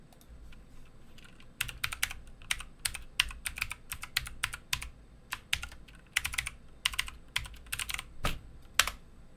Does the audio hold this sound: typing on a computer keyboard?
yes